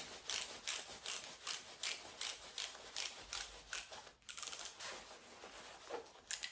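A ratcheting strap mechanism on a Nuby baby carrier base being wound in, a quiet, steady run of rapid clicks and rubbing that pauses briefly and then continues.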